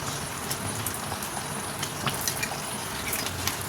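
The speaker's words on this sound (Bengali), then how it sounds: "খুব সুন্দরভাবে ফুটে গেছে।" Chicken gravy with a splash of kewra water simmers in a pan, giving a steady close-up bubbling hiss with small pops throughout.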